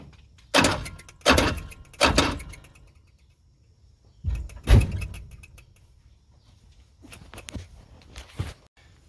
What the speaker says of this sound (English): I think the motor's trying to turn.